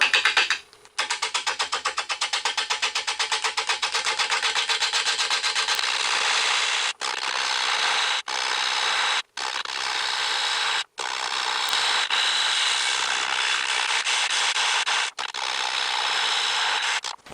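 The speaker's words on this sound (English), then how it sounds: "I'm going to use this homemade carbide chisel. And I managed to get up to about 500 RPM." A homemade carbide chisel cuts a large, very dry end-grain wood bowl on a lathe spinning at about 500 RPM. A loud, continuous rough scraping and rasping chatter runs throughout, broken by several short pauses, with no talk.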